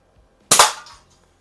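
A West German FB Record Jumbo air pistol fires once, a single sharp, loud crack that decays quickly, with nothing else heard around it.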